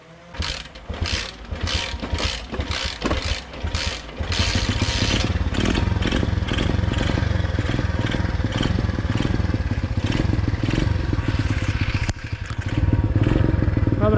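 A Loncin 125 motorcycle engine, in doubtful condition, first ratchets and clatters unevenly, then runs steadily while the bike is ridden, a loud close mechanical drone with rattling chain-like clatter that surges near the end.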